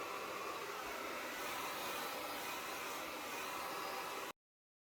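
A hair dryer fitted with a diffuser blows steadily on curly hair that has been root clipped, giving a loud, even broadband whoosh that holds constant, then cuts off abruptly near the end.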